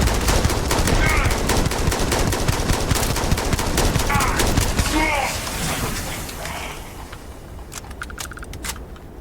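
Dense automatic gunfire in the video game Starfield, loud rapid bursts of shots that fade toward the end into a few scattered clicks.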